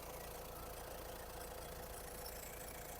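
A 2012 Nissan Qashqai+2 1.6 diesel engine idles steadily and evenly, humming continuously with a faint rhythmic knocking, heard up close with no voices.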